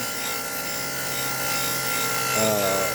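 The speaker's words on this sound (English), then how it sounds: "This is a rough wire wheel." A coarse 6-inch wire wheel spins on a power tool, giving a steady, close motor whine with a buzzing edge that swells slightly near the end.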